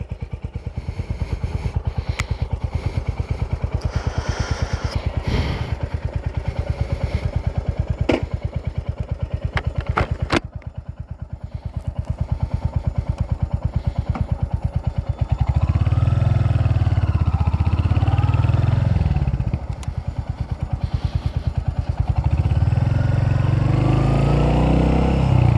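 A Royal Enfield Hunter 350 motorcycle cruising on a freeway, its single-cylinder engine thumping steadily and close under heavy wind buffeting that grows stronger in the second half.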